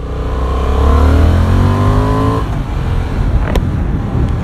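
A Honda Hornet CB750 motorcycle engine revs up through its mid range, a loud close rising drone that climbs steadily for about two seconds and then drops back to a rougher, lower running note.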